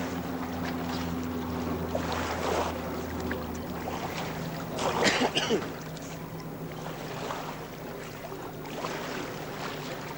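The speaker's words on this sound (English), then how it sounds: "I've forgotten what sailing was like. There's an incredible sensation of speed." A sailboat rushes through water at speed, with steady wind and water noise throughout and a louder swell of splashing midway; some faint talk may sit under it.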